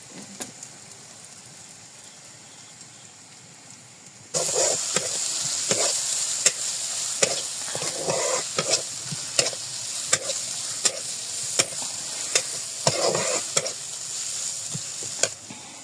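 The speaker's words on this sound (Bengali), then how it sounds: "ডিম ভুনার জন্য এই যে পেঁয়াজ মশলা ভুনে নিচ্ছি।" Onion and spice masala for egg bhuna, alongside fried onions and lentil boris, bursts into a loud sizzle in a pan after a quiet start. A spatula scrapes and taps in a regular rhythm, and no one speaks.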